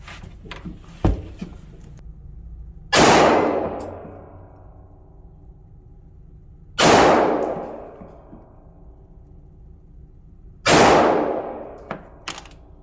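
Three loud, sharp gunshots from a Smith & Wesson M&P 9mm M2.0 Performance Center pistol at a shooting range, spaced roughly four seconds apart, each with a ringing decay, plus a few faint metallic clicks between them.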